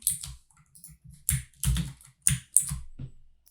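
Close, crisp keystrokes on a computer keyboard: a short run of separate clicks and taps with gaps between them, ending in a firmer Shift Enter press.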